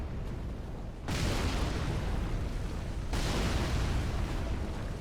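Ballistic bolts from a Dark Souls 3 enemy at Smouldering Lake strike in two heavy, booming bursts, each followed by a sustained roaring rumble like an explosion.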